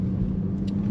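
A Renault Mégane GT 205 hp accelerates hard with slight wheelspin, heard as a steady, close engine drone and rumble inside the car for a brief moment.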